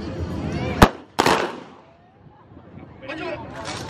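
Two sharp gunshots crack close by, one right after the other, during a military demonstration at an Air Force base in Ubon Ratchathani on Children's Day, followed by quieter voices talking.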